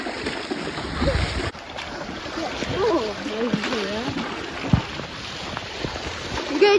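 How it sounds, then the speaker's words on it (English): Sea waves splash at a beach at Sutton on Sea, a rough continuous wash of surf and wind noise with a few splashes, while people talk and call out over it. "Chloe, let's go jump over the waves"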